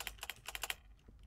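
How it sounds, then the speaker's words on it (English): Quick bursts of keystrokes on a computer keyboard entering a command, about ten close, crisp clicks in an uneven rhythm over under a second, then quiet. "You want to type in mining start"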